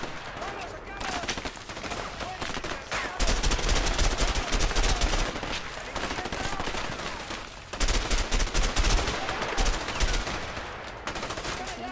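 Sustained automatic gunfire from the co-op prison-escape game A Way Out, loud and dense bursts of shots with a brief lull, with voices talking over parts of it.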